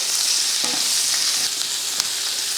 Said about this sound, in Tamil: இப்போ அதே எண்ணெயில் ஒரு வெங்காயம் ஒரு நாலு பல் பூண்டு இதை கொஞ்சம் வதக்கிடுவோம்